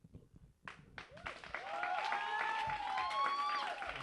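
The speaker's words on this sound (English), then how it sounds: "Give him another round of applause, y'all." Audience applause for a young singer swells from scattered claps into loud, sustained clapping mixed with whoops and cheering voices.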